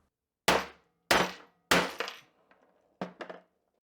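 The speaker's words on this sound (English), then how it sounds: "just hit it with a hammer." Sharp metallic hammer strikes land on a steel disc cutter punching jewelry metal: three hard, close blows in quick succession, a pause, then a fourth blow with a brief ringing clink after it.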